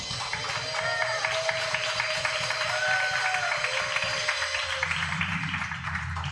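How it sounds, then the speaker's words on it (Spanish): A church congregation applauds in a steady, continuous clatter of many hands, with voices shouting and speaking over the clapping throughout. "Dale ese aplauso al Señor."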